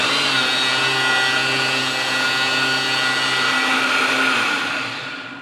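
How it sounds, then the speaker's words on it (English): A blender whirs steadily at high speed, mixing a low-carb, sugar-free ice cream base with vanilla extract; loud and continuous with no talking, easing slightly near the end. "Then you want to put it in the blender for 1 minute."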